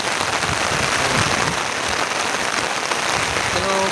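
Heavy rain pours outdoors in the forest, a dense, loud and steady hiss of drops hitting surfaces that runs the whole time with no break.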